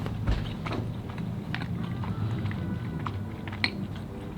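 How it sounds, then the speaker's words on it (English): A slice of Little Caesars Quattro pizza with sausage and pepperoni and a chewy crust is bitten and chewed close to the mouth, with soft crunches and wet chewing sounds at an irregular pace. "So let's go on out and take care of the Joe bite test"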